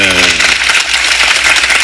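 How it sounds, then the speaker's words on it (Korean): A big round of encouraging applause at a public talk, a loud dense wash of clapping that briefly overlaps a voice at the start and then carries on steadily. "여러분 격려의 박수 한번 크게 주시겠습니까?"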